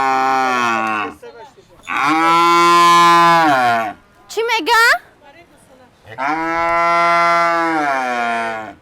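Cows at a cow-milking event moo loudly and close in two long, drawn-out calls, with a short burst of a person talking between them.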